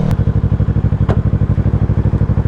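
A motorcycle engine running close by with a rapid, steady pulsing throb and a few light clicks on top, loud and alone.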